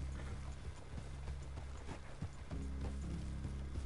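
Horses trotting in Red Dead Redemption 2, a steady clip-clop of hooves over a low rumbling game soundscape, with no talk over it.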